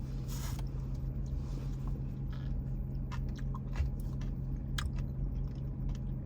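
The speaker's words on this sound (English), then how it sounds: "I can hear you like crunching the bits. it's definitely got chunks of peppermints in it." Crunching peppermint chunks in vanilla fast food ice cream, close soft chewing with faint scattered crunchy clicks over a steady low hum; no talk.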